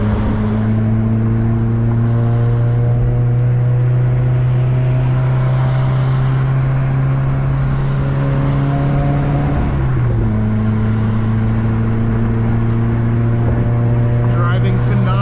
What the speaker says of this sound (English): I love the way the car sounds right now